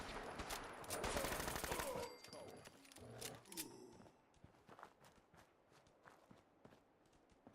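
A gunfight in Fallout 4: a dense, rapid burst of distant automatic fire for about two seconds, then scattered faint pops and footsteps as a voice talks briefly.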